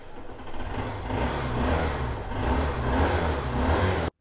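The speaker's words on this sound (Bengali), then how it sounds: "সাউন্ডটা শোনার পরে আসলে এই বাইক তো এখান থেকে না নিয়ে আমি যাবই না।" A second-hand motorcycle engine runs steadily nearby, a smooth mid-pitched rumble that swells slightly as if revved, with no talking.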